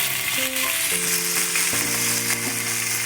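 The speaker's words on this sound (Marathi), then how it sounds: "तर आपण आता याला तव्यावर चांगलं फ्राय करून घेऊया." Loud, continuous sizzling of masala-stuffed surmai (kingfish) pieces frying on a hot griddle, with faint tonal hums running beneath the crackle.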